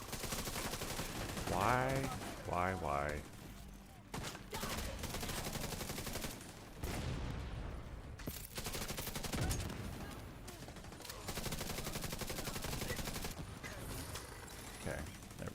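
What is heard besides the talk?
deployed turret firing, The Division 2 video game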